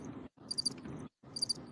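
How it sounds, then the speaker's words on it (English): Cricket chirping sound effect: two bursts of high, rapid, pulsing trills over a soft background hum, separated by brief silences, fairly quiet and close. "there would be crickets."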